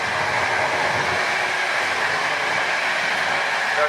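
Passenger train running from Krakow to Lviv, heard from inside the carriage as a steady loud rumble and hum with no distinct clacks.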